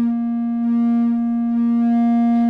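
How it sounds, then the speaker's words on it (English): A steady buzzing synthesized tone with dense overtones, harsh and distorted from a WMD Synchrodyne filter with its attenuator turned fully up, holding one pitch throughout with slight wavering. "If I turn it all the way up, the distortion is clearly audible."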